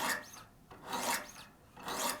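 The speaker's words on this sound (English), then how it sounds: "we're going to do the same thing on the left by doing 10 strokes on the right side of the knife" A knife blade is drawn across sharpening stones on a Wicked Edge GO WE60 precision sharpener. Three steady, rhythmic rasping strokes sound close and soft with no voices.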